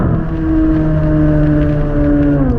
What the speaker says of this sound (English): Z mode, downshift, downshift, downshift.